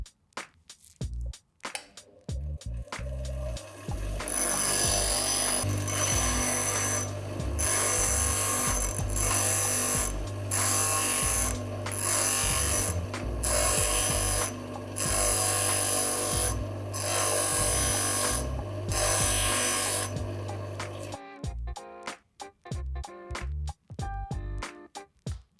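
Tungsten TIG welding electrode being sharpened vertically on a grinder, a steady loud grinding whine running for about seventeen seconds with brief pauses, framed by short clicks and handling noises at the start and end.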